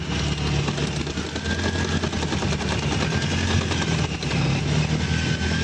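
A motorcycle engine strains hard under load while pulling a tractor fitted with a rotavator, giving a loud, continuous rough drone with a rapid pulsing beat that stays steady throughout and has no talk over it.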